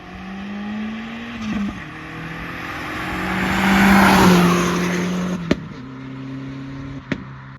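A 1.8T MK1 Rabbit pickup fitted with a Techtonics Tuning exhaust approaches and drives past, its engine note swelling to a loud peak mid-pass and then fading away, with a couple of sharp knocks near the end.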